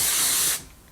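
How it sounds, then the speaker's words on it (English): Kenra dry texture hair spray from an aerosol can gives one loud, close, steady hiss lasting about half a second, then cuts off sharply into quiet. "Now I'm gonna put a little Kenra, can you see it? Dry texture spray."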